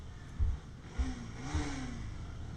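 A Bajaj Pulsar NS200 motorcycle with an unmodified exhaust revs inside a tunnel, three throttle blips followed by a rising growl that echoes off the walls, moderately loud.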